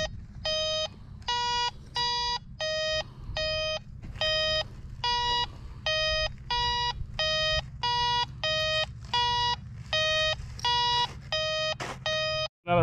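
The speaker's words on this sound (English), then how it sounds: "Half the time, it'll beep, like, 5 or 6 inches to the right or left of it." A Kaiweets metal detector beeps in a steady run of about twenty short, evenly spaced tones, loud and close, over a low rumble of outdoor background noise on a playground.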